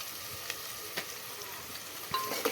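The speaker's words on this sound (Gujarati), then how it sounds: "મસ્ત આપણે ડુંગળીનો વઘાર લઈ લીધો છે મમ્મીએ" Chopped onions sizzle in hot oil as a tempering for homemade pasta, a steady soft frying hiss with a few light clicks of a spoon stirring through the pan.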